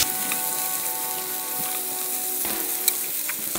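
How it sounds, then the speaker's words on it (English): String beans frying in a pan give a steady, even sizzle, with a couple of brief stirring scrapes partway through, close and continuous with no voices. "Alright, so we're just going to stir."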